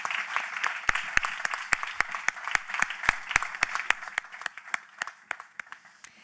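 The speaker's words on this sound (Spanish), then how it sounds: "Un aplauso." Audience applause at a medical congress on cystic fibrosis, a soft background patter of clapping punctuated by sharp, close individual hand claps in a steady rhythm, gradually thinning out toward the end.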